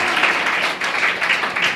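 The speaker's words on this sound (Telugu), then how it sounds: "అందరూ ఒకసారి చప్పట్లు కొట్టి దేవుని మహిమపరుద్దామా?" A church congregation claps together in praise, a short, steady burst of massed applause with no talk over it.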